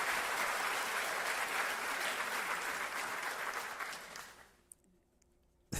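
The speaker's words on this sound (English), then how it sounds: "here's an applause for everybody." Steady applause from a crowd fills most of the clip, then fades out into near silence with a couple of faint clicks.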